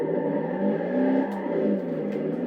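A car accelerating with nitro in the racing video game Need for Speed Carbon, a continuous whirring engine roar with slight rises and dips in pitch, steady and close, no talking.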